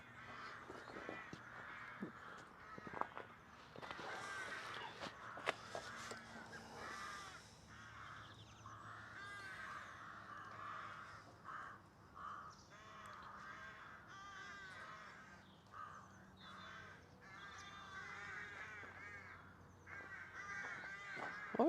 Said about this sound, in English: I think there's crows above the storage container dropping twigs on it.